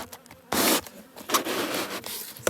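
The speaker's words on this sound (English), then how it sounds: "it should sweep most of the bees down" A honeybee colony buzzes in bursts as an insulation insert is lowered into the top of a hive for winter, a close, rough whir that swells and fades with soft rubbing of wood.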